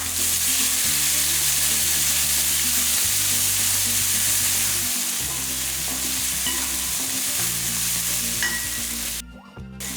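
Steady, loud sizzling of tomato and curry leaves frying in a pan for dry fish kuzhambu, with stirring scrapes throughout and a brief drop near the end, no voices.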